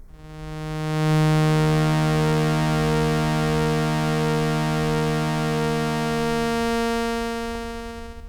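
A Dreadbox Murmux III synthesizer holds one sustained, buzzy harmonic tone with the noise source off as its oscillators are blended into each other. The timbre slowly shifts and beats, swelling in, holding steady, then thinning and fading near the end.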